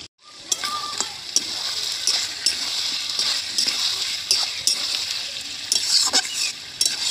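Chicken and small potatoes stirred and sautéed in a pot over a wood-fired clay stove, with mint leaves added: a steady close sizzle broken by repeated scraping stir strokes, alone without voices.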